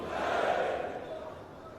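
A crowd at a BJP party rally roars back a slogan response, a broad, swelling mass of voices that peaks early and then slowly fades, heard from some distance.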